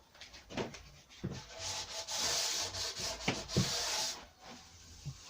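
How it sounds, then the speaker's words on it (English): A wooden shelf is hand-sanded with 320 grit sandpaper, giving soft, close, scratchy rubbing strokes in an uneven rhythm with brief pauses between passes. "I'm going to very carefully go over with 320 paper, just remove the nibbles"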